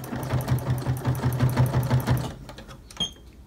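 A sewing machine stitches down the front of a cloth mask with a rapid, rhythmic stitching pulse for about two seconds, then stops, followed by a faint click and quiet handling.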